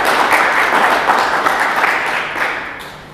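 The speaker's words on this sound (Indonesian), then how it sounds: "Beri sorak-sorai dong bagi Tuhan" A church congregation cheers and applauds, a dense, loud wash of clapping and voices that holds steady before tapering off toward the end.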